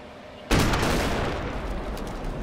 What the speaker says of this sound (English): Cover all the gunshots with the cannon shot.